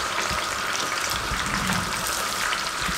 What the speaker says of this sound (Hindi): ये कड़छी या चम्मच की मदद से इसको हल्का हल्का प्रेस करेंगे। ये देखें साउंड आएगा, पानी जैसे रिमूव हो रहा है।